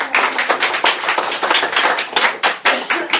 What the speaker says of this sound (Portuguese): uma salva de palmas a esse Ru da irmã aí